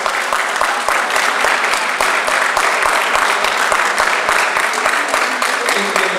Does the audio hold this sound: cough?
no